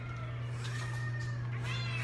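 At a no-kill cat shelter at morning feeding time, cats give several drawn-out meows close by over a low steady hum, with no talking.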